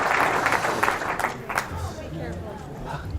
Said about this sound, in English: Give a big round of applause for Ty and Jordan